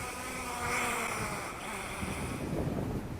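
Wind blowing outdoors during a drone flight roars steadily as a loud, broadband rush against the microphone, with gusty swells throughout.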